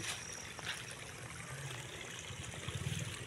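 Irrigation water runs in a faint, steady trickle and gurgle, continuous and fairly close, with nothing else prominent.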